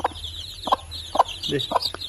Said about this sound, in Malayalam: ശബ്ദം ഉണ്ടാക്കി വിളിച്ചിട്ടാണ് ഈ കോഴി കുഞ്ഞുങ്ങൾക്ക് തീറ്റ ഇട്ട് കൊടുക്കുക